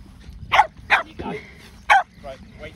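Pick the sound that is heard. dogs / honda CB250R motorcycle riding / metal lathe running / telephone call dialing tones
dogs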